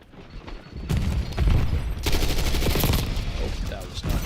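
Sustained video game shooter gunfire, dense overlapping shots and booms over about four seconds, loud and continuous with game noise layered underneath.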